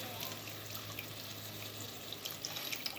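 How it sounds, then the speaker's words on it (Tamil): Tamarind water is poured into a simmering fish curry made with raw mango, giving a steady close splashing and trickling wash that runs for the full few seconds without a break. "புளி தண்ணி சேர்த்துக்கிறேன்."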